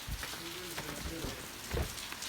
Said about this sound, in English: so today's a rainy day in my country